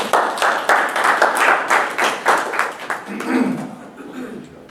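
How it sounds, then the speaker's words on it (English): Meeting audience clapping in a broad wash of applause, with some laughter and chatter mixed in, before it thins out and fades toward the end. "give yourselves a round of applause"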